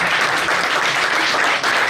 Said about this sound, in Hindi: और हमारे विष्णु भगवान के लिए जोरदार ताली।